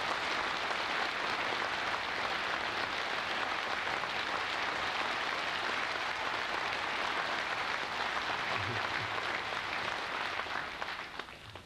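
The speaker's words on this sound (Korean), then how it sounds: "이 박수는 내게 한 게 아니라 당신께 한 거라는 걸 알아요." Large crowd applauding at a 1984 New York send-off rally for Kim Dae-jung, a thick, continuous roar of clapping that holds steady throughout and tapers slightly at the very end.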